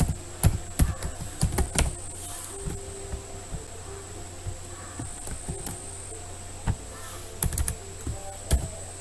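Keys on a computer keyboard tapped in short irregular bursts during a typing lesson in a digital document class, with quiet pauses between clusters of clicks and a faint steady hum underneath.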